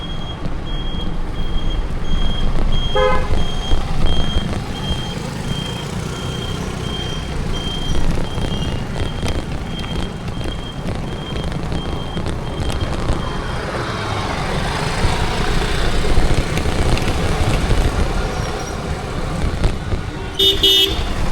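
Busy traffic at a road junction in Annamanada, Kerala, where construction work is underway, rumbles loudly and steadily with passing vehicles, a reversing beep and short horn toots.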